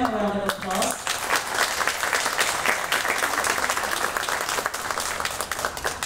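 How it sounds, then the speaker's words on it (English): Audience applause fills a conference hall, starting right after a brief spoken phrase and holding steady as dense, even clapping for several seconds at moderate loudness. "Please give them a round of applause."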